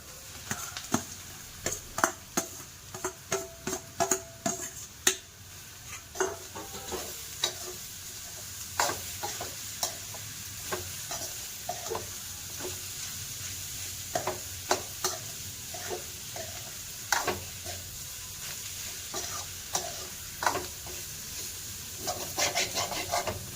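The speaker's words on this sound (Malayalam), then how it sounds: "നമ്മൾ തേങ്ങ ചതച്ചെടുത്തത് ആദ്യം ഇടാം അപ്പോൾ അതിൻ്റെ പച്ചമണം എല്ലാം എണ്ണക്കകത്തൊന്ന് മാറിക്കിട്ടുമല്ലോ" Crushed coconut fries in hot oil, a close, continuous sizzle broken by frequent scraping stirs and small crackling pops that go on throughout without talk.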